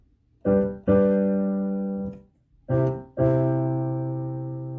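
Two pairs of sustained chords, each pair moving from the I chord to the IV chord, ringing out and decaying, played alone with no voices.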